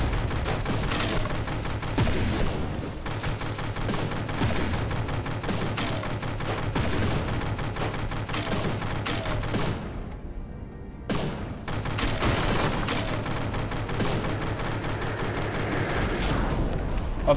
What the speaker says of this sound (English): Launch missiles.